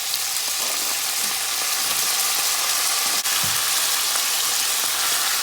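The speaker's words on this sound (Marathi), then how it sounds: "आनी आमी आतां चॉप्ड गार्लीक लसूण घाताय. आनी हांव आतां तेजेर पियाव घाता," Chopped garlic and onion frying in hot oil in a pan, a loud steady hissing sizzle throughout with a brief stirring clack midway.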